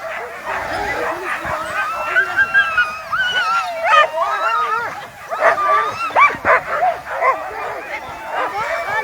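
Sled dogs at the start of a sled dog race bark, yip and whimper in an excited, continuous chorus, several dogs close by, with people's voices mixed in.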